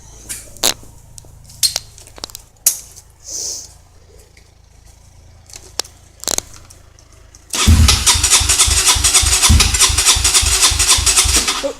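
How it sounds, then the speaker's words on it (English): A Honda CRF dirt bike engine cold starts after several isolated clicks and kick attempts, then catches into a loud, rapid, pulsing idle that stays steady and close. "Just do a quick cold start. My dirt bike."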